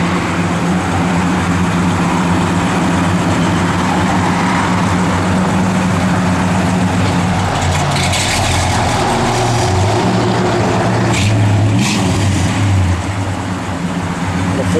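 1966 Pontiac Catalina 2+2 with a 421 V8 idles loudly with a lumpy, continuous low rumble, a brief rev swelling near the end, no talking over it.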